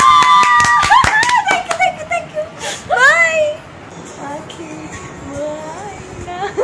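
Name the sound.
hand clapping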